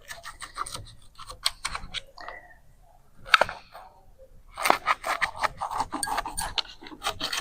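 A knife cuts through no-bake breakfast bars in a disposable pan, producing close, dry rasping and scraping strokes in bursts, with short pauses between cuts.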